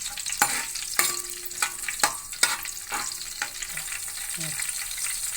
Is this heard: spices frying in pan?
yes